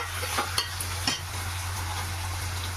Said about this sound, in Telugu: ఇది మొత్తం బాగా కలుపుకున్నాము